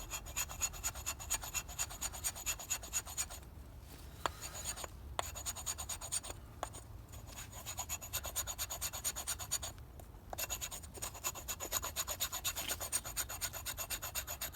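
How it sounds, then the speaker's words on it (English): A Nomad field knife's spine scrapes shavings off a damp log in repeated rough rasping strokes, close and fairly quiet, with brief pauses between passes and no talking. "got some knife shavings with the Nomad field knife"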